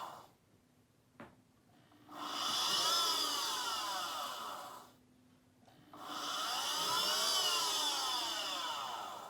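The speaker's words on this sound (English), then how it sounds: "what I'm going to do is I'm going to drill my holes" A power drill whines through holes in a handmade jewelry piece in two sustained bursts, each lasting a few seconds, with a quiet pause and a small click between them.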